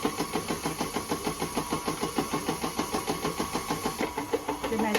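Stand mixer kneading sourdough brioche dough, its motor running steadily with a regular rhythmic thump and churn from the dough hook, loud and close, with no talk over it.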